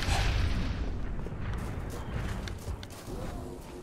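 A grenade blast in Halo 3 booms loudly at the start, its low rumble rolling on and slowly fading through the rest of the moment.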